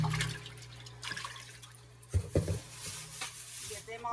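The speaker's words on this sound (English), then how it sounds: "So I'm just going to wash up all the cucumbers." Cucumbers being washed in water give splashing, sloshing bursts of varying strength against a low steady hum, with brief pauses between the splashes.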